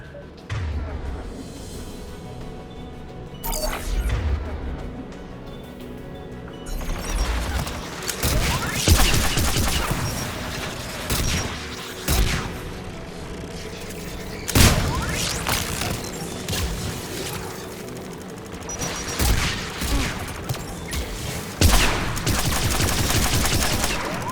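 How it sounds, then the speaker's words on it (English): Anti-aircraft gunfire in the game Mass Effect 3, loud bursts of rapid firing and heavy booming impacts recurring over a constant rumble, with sharp cracks scattered throughout. "AA guns ahead."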